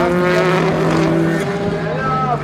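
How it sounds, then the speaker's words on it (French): A Corvette race car competes at the 2017 24 Hours of Le Mans, its engine a continuous loud, harmonic roar whose pitch shifts and slides as it powers out of the Arnage corner. "La Corvette qui reprend l'avantage à la sortie du virage Arnage."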